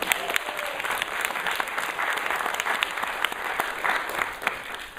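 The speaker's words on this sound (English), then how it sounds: "big round of applause for these guys" An audience gives steady, dense applause for a group of musicians after a story reading. The clapping is loud and sustained for the whole stretch, with no talk over it.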